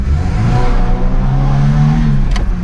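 Engine of a Ford drift car revs hard close up while drifting on dry pavement, a loud sustained drone rising and holding, with a short sharp noise near the end.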